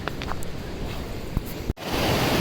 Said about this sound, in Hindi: मुझे बड़ा अच्छा लगता है ये पानी बहता हुआ, इतना शोर है ना